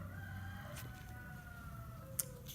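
A rooster crows faintly in the distance in the evening, with a drawn-out call over quiet background ambience and a brief sharp click near the end.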